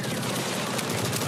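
Dense, continuous gunfire from a heist shooter game, a rapid loud rattle of overlapping shots that fills the whole moment with no pauses.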